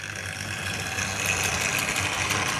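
A Tri-ang R3.A model train set runs with coaches coupled on the track, giving a steady buzzing motor drone with light rattling clatter, close and continuous throughout.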